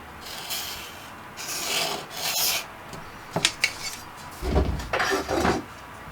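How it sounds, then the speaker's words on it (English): A pencil scratches across paper while ruling lines, several short dry scraping strokes in bursts with pauses between, close and quiet, no talking. "then we're going to do a horizontal line at the bottom so we can get a baseline going"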